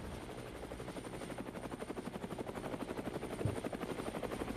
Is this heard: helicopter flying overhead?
yes